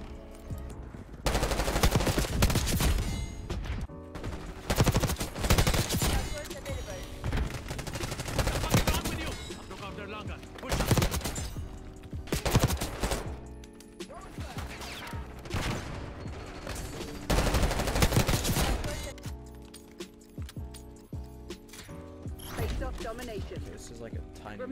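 Rapid automatic gunfire in the video game Black Ops 6 during a Domination match, long loud bursts and fusillades broken by short pauses, with mechanical clicks and reload sounds between.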